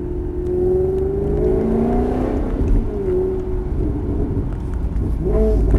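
A Maserati GranTurismo S on a track-driving course, its engine loud and close from inside the car, revving and pulling through rising and falling pitch sweeps as it accelerates and shifts gears.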